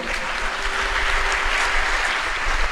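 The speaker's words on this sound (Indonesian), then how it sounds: "Tepuk tangan dong." Steady, full audience applause at a graduation ceremony, a dense wash of clapping that holds evenly for a few seconds with a faint tone underneath.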